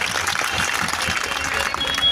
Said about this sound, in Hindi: ऐसे अटल जी के लिए तो जोरदार ताली बजाओ भाई।